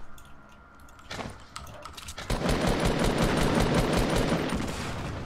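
Gunfire in the video game Fortnite during a pro duo scrim match: a few scattered shots, then a dense, rapid burst of automatic fire that continues steadily, fairly loud with no talking over it.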